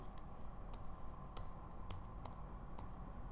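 Fingers tap a computer keyboard in sparse, separate clicks, about seven keystrokes spread unevenly over a steady low background hum, fairly close and with no talking.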